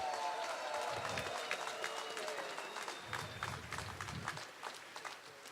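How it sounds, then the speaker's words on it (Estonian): Rally crowd applauding outdoors, a sustained wash of clapping with scattered louder claps and some shuffling, fading slightly toward the end. "Teeme täna ühe suure aplausi kõigile neile, kes tulid väga kaugelt täna siia"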